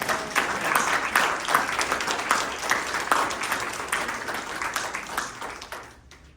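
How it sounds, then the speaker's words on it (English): A residents association meeting audience claps for members, a full round of applause with distinct hand claps in a roomy space, holding steady then thinning out and fading at the end. "We need to give these people a round of applause."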